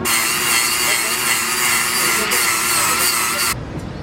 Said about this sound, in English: we're going to go ahead and grind this off